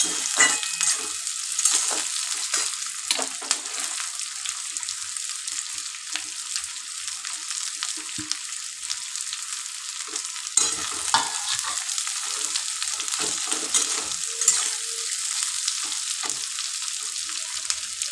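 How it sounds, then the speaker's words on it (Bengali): Sliced onions fry in oil for a chicken dish, a continuous bright hiss with soft, intermittent stirring scrapes underneath and no talking. "এটা ভাজা হোক"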